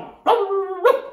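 Two loud, close dog barks about half a second apart, each with a clear tonal ring, heard alone with no talk, as a sound effect in a children's story.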